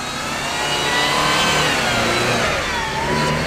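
A GAZ Volga car engine revs hard and steadily as it struggles to push through rough off-road ground, loud and close with a sustained strained drone throughout.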